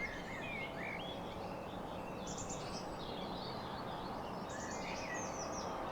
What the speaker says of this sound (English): there's so many birds outside here